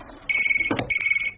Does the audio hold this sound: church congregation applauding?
no